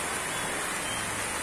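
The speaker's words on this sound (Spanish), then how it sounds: "en medio de la lluvia, como está sucediendo en este momento." Steady evening rain falling outdoors, a soft, even hiss with no break, moderately faint.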